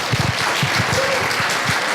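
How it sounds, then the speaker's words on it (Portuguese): Audience applause at a university election debate in Brazil, steady clapping from a crowd through the whole moment. "Eu adoro palmas, podem bater palmas."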